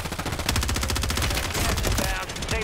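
Rapid automatic gunfire in Warzone, the battle royale game, rattling in dense bursts over a continuous mix of game noise and excited voices talking.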